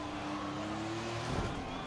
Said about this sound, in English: let's throw an F1 car against the wall in F1 2020